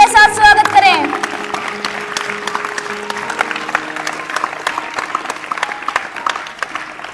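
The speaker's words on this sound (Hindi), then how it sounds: "जोरदार तालियों के साथ स्वागत करें।" Audience applause welcoming a student performer at a school Teacher's Day celebration: a brief voice opens, then dense, steady clapping from a sizable crowd fills the rest, loud and close throughout.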